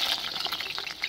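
Potatoes slide into hot oil and fry for a chicken dish, giving a steady, close, bright sizzle and bubbling throughout, with no talking.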